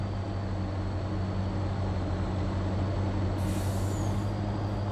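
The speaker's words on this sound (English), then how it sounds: "If I had to complain about anything, it would be that the engine sound could be a little bit more impressive." A truck engine in a farming video game, a steady low drone with an even hum that holds throughout, and a brief hiss near the end.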